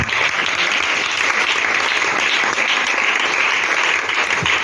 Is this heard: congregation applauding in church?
yes